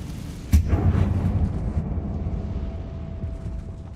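Confringo fire-blast spell exploding in Hogwarts Legacy, a sudden loud burst followed by a rumbling, fading roar lasting a few seconds, heard alone.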